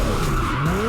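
Car tires skid and squeal while drifting in the racing game Assetto Corsa, a continuous loud screech with gliding tones over a steady engine drone.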